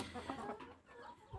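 Hen clucking on a farm while eggs are collected from under her, a few short nearby clucks over rustling with a low thump near the end.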